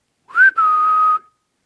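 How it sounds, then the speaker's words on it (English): A single clear whistled note inside an old abandoned house, rising slightly then holding steady for about a second after a brief break, close and loud with no other sounds. "Whistle like this."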